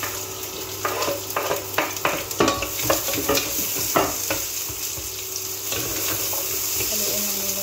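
Black lemon being stirred in a cooking pot with a spoon, producing steady scraping and clacking strokes over a continuous sizzle, fairly close and loud, with no talking.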